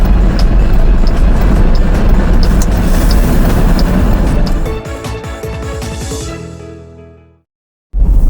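A car cruises at 75 miles an hour on an open highway in northern Maine with steady, loud road and wind roar that fades out and then cuts off abruptly.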